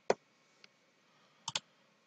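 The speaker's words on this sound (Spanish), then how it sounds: "Clic derecho." A computer mouse clicks close up in a quiet room: one sharp click, a faint tick, then a quick double click.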